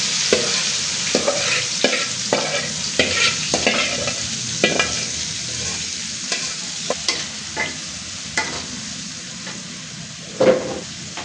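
Pointed gourd (potol) frying in a pan while a spatula stirs it: steady sizzle broken by repeated scraping strokes against the metal, close and fairly loud, with no speech.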